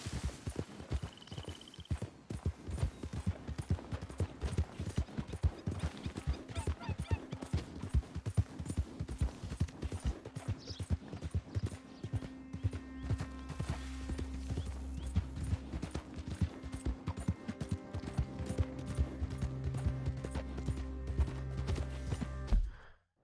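Steady horse hooves clip-clop throughout in Red Dead Redemption 2, a dense rhythmic trot with occasional snorts, loud and close, running continuously to the end.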